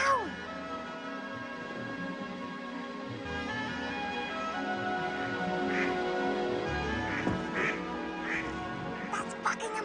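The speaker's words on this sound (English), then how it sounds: "I's hearing ducks quackling down below" Ducks quacking in St. James's Park, London: repeated honky quacks scattered through the clip at moderate distance, over a steady outdoor background with faint voices.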